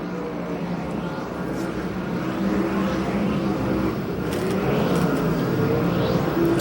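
USAC/CRA sprint cars racing on the dirt track at Perris, California, a continuous droning engine roar from several cars circling at a distance, steady and loud with no close pass.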